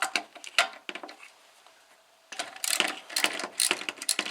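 Ratchet working the 13 mm bolts on a Porsche 944 clutch slave cylinder: bursts of quick metallic clicking, a short pause, then a longer run of faster ratcheting clicks, close and fairly quiet.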